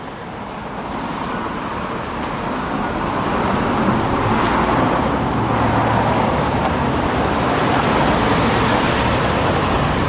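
Street traffic during an outdoor rally gives a steady, loud roar of passing cars and heavier vehicles that swells slightly and carries on without a break.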